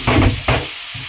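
Food frying in butter in a pan spits in loud, close bursts of crackle. Three surges come at uneven intervals over a steady background sizzle, with no speech.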